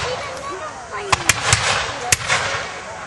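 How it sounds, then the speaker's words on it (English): A British Congreve rocket fires during a Fort Erie siege reenactment with a rising whoosh, followed by several sharp cracks and pops echoing across the field, loud against a constant outdoor rumble. "Another Congreve rocket being fired off from the British line."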